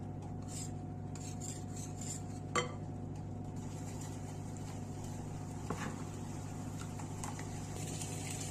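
A spoon stirs tortilla dough ingredients with sugar and salt in a bowl, making a soft, steady scraping and light clinking, fairly faint, with a couple of sharper taps and no talk.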